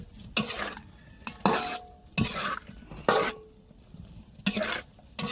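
Fresh fish frying in a pan for a curry, with a close spatula or spoon stirring in bursts against the pan and a steady sizzle between them.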